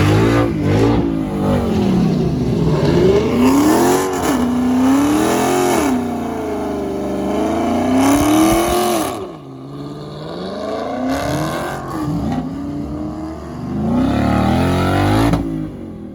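A car doing a burnout at a Pittsburgh car meet, engine revving hard in long rising and falling pulls, loud and close, with a brief dip before climbing again.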